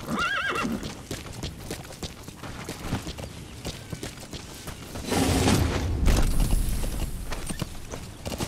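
A horse whinnies near the start in Metal Gear Solid V, followed by steady clip-clopping hooves and a heavier rumbling burst later, with no speech.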